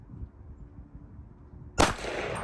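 A single sharp .223 rifle shot cracks out at an outdoor target range after a quiet stretch of low background rumble, loud and close, with a brief noisy decay trailing it.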